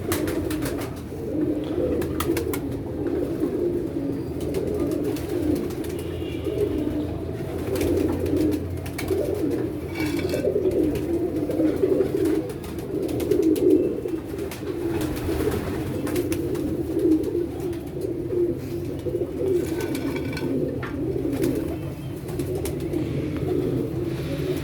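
Pigeons coo continuously, a dense layered murmur of soft throaty calls from a close flock, steady throughout with occasional faint higher chirps.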